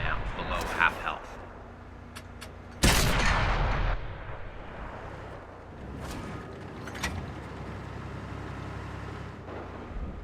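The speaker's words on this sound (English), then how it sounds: "I get the opportunity for a few shots on him here" A Panther tank fires its main gun in the World of Tanks console game, with one loud, sharp boom and its rumbling tail, followed by engine drone and distant battle noises, while someone talks over it.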